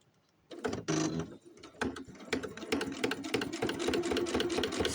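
A sewing machine stitches a new cover for a doll chair, its rapid mechanical whir running steadily and close after a brief start, with small clicks and pauses at first.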